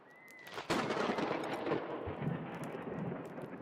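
A lightning strike in the Sea of Stars video game: a sudden loud crack that swells into a sustained rumbling roar, continuing for several seconds with no talk over it.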